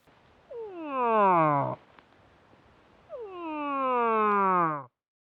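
A voice imitating a cow moose gives two long, drawn-out moaning calls with a falling pitch, separated by a short pause, close and fairly loud.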